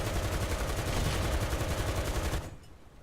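Rapid, loud firing in the War Thunder tank game, a continuous roar of repeated shots for over two seconds that stops abruptly, leaving a quiet tail.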